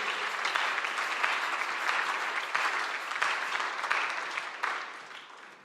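A crowd at a church youth gathering claps steadily in sustained applause, dense and fairly close, tapering slightly toward the end.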